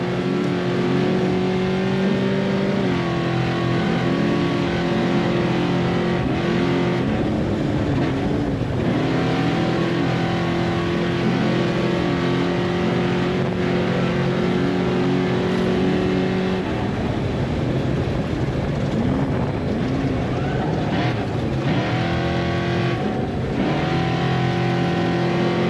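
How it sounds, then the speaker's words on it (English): Big-horsepower off-road race vehicle engines at a NORRA 500 desert rally stage, loud and close, droning and revving with shifting pitch and gear changes, continuous throughout with no talk. "you can hear at home the sounds of this big, big horsepower"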